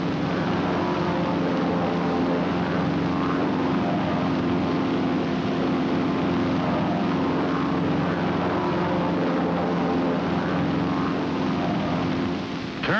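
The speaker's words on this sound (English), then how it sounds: "three planes in a parade V formation." Three airplanes fly in a parade V formation, making a loud, steady engine drone that holds unbroken throughout, with no voices.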